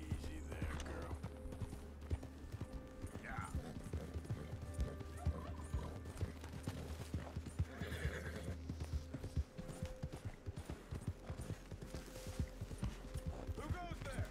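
Horse hooves clip-clopping steadily in Red Dead Redemption 2 amid quiet outdoor game ambience, with faint whinnies and a person talking.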